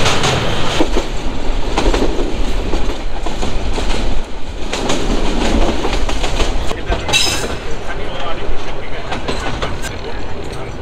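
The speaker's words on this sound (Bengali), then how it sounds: "কাউনিয়া তিস্তা রেল সেতু তার উপর দিয়ে আমরা এখন যাচ্ছি" A train crosses the Kaunia Teesta rail bridge, wheels rolling in a loud, steady rumble with rhythmic clatter and occasional sharper metallic hits throughout, heard from on board.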